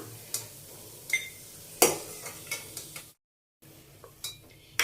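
Cashews roasting in a pan for aval payasam, stirred with a metal spoon that scrapes and clinks against the pan in sharp intermittent strokes over a soft, low sizzle, with a brief silent gap midway.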